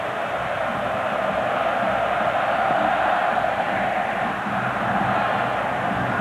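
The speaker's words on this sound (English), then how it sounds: "The crowd settling back in after the intermission and the bands." A packed football stadium crowd at the 2010 Rose Bowl, Ohio State versus Oregon, sends up a broad, continuous roar and murmur that holds steady throughout, with no single voice standing out.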